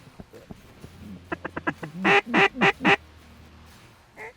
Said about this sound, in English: New ducks coming from high.